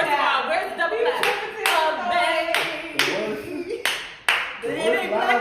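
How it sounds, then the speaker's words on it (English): Sharp hand claps ring out in a loose series of about six loud, near strikes, with several people talking and laughing over and between them. "where's the double clap?"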